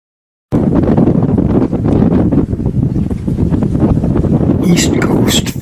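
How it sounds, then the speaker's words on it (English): Strong force 5 gusting 6 wind buffets the microphone on a sailing ketch at sea, in continuous roaring gusts, with rushing water beneath and a few faint higher tones near the end. "East Coast force 5 gusting 6 with Rosalind at helm"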